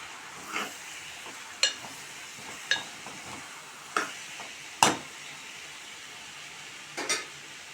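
Tomato dropped into dal frying in a pan, a faint steady sizzle broken by a series of sharp clicks and taps of a utensil against the pan at irregular intervals.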